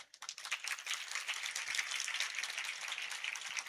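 Steady, dense clapping from an audience gathered for a Jain religious talk, a continuous patter of many hands at moderate loudness with no voices over it.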